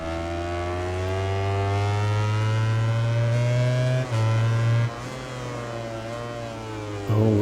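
An Aprilia racing motorcycle engine in MotoGP 19 at the Sachsenring, a loud, steady high-revving drone with brief dips as gears shift, then a rising pitch as it accelerates again, with no talk.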